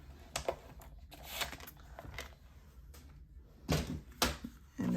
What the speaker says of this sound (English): I want to score it in half this way at 2 1/2